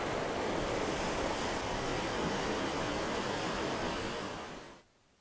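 Surf rolls in at a Caribbean beach in Costa Rica, a loud, continuous roar of breaking waves close by that fades out near the end, with no voices.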